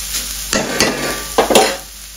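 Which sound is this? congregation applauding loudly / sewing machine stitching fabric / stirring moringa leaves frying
stirring moringa leaves frying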